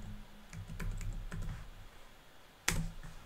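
Typing on a computer keyboard, a few close, sharp key clicks in small bursts with a louder strike near the end, alone in a quiet room.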